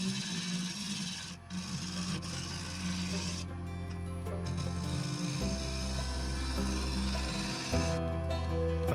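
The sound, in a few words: diamond card sharpening a woodturning tool edge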